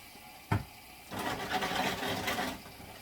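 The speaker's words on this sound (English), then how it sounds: "a little more hot water in there." Hot water pours from a kitchen tap into a sink filled for washing dishes, a steady hissing rush for about a second and a half after a single sharp clunk, fairly quiet overall.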